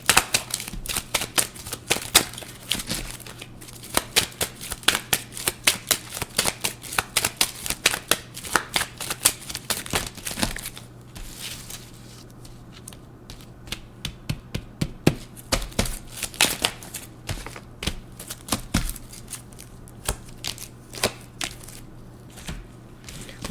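A deck of tarot cards is shuffled close up in rapid bursts of crisp riffling and tapping, pausing briefly between rounds, with no talking.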